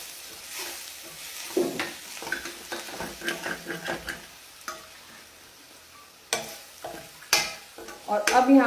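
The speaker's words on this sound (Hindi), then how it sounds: "थोड़ा सा इसे भी भूनेंगे।" Jackfruit (kathal) masala sizzling in a pan while being stirred, with scraping strokes that come in irregular bursts and grow louder toward the end.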